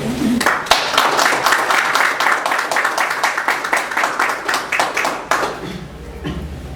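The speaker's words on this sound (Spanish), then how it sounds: "recibimos al profesor con un fuerte voto de aplauso" Loud, close clapping from an audience welcoming a professor at a legal conference panel, with distinct individual claps forming a brisk rhythm that tapers off near the end.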